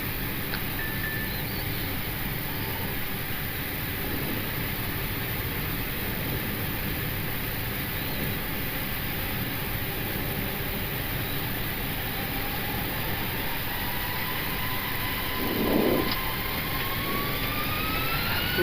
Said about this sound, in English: Okay, takeoff confirmed.